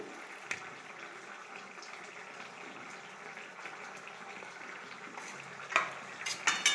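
Katla fish curry with potatoes being stirred in a pan, a steady bubbling simmer with soft scraping that grows into a few louder clinks of the utensil against the pan near the end.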